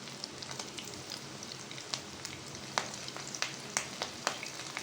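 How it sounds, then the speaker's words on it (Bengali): Shrimp frying in hot oil for a crispy shrimp fry, giving a steady soft sizzle with scattered pops and crackles, close and fairly quiet, with no talking. "ব্রাউন কালার করে ভেজে নিব।"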